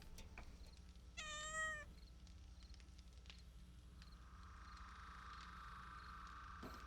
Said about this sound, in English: I don't know why you want to meow so much.